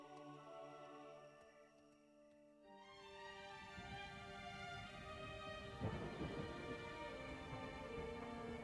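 Steady rain hiss from the video game Shadow of the Colossus, rising under sustained orchestral music with low rumbling swells, continuous and moderately loud throughout.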